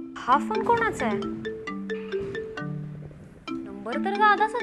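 A mobile phone ringtone plays a repeating electronic melody close by, ringing continuously at moderate volume.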